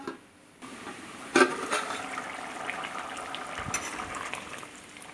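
Elephant yam boils in water in a covered pot, a soft continuous bubbling and hiss beneath a brief clink of the lid, steady and close with no talking.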